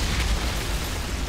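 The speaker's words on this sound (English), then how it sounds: "Eruption" Eruption fire skill from the Fire Witch in Outriders going off as a loud, dense explosive roar with a deep rumbling low end, steady and unbroken for a moment, with no voices.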